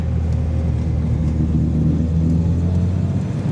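A 1976 Datsun 280Z fitted with rally tires rolls slowly around a parking lot, its engine a steady low rumble heard from inside the car without revving or voices.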